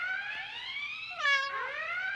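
A cat meows in a long, drawn-out, wavering yowl whose pitch slides up and down, rising to a brief louder peak midway and continuing over a faint background hiss.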